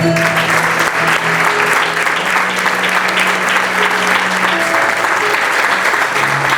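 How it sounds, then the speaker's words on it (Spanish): A church congregation at a worship service applauds loudly and steadily throughout, the dense clapping holding an even level, with faint sustained tones beneath it. "Dale un aplauso al Señor"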